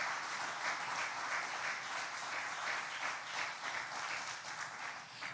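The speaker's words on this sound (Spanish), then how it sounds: "Démosle un aplauso al Señor." A church congregation at a Sunday service applauds steadily in a dense, even wash of clapping that holds for several seconds at moderate distance, with no voices over it.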